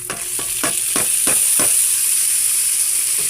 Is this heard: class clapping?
no